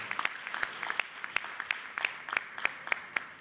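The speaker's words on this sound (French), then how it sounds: "Applaudissez pour le président Patrice." Sparse applause at a Beninese political gathering for the party president, a few hands clapping in an uneven, fairly quiet patter with sharp individual claps standing out over a low room hiss.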